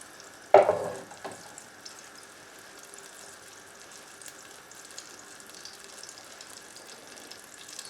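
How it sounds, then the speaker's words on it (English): Onions drop into a pan of melted butter and oil with a sudden thud and burst of sizzle, which then settles into a faint, steady frying hiss with no voices. "now we're going to fry our onions off"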